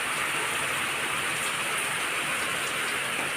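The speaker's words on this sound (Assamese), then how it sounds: "দেখিলেনে কিমান বৰষুণ দি আছে" Heavy rain pours continuously onto a house and veranda, a loud, dense, unbroken roar of falling water with no voices.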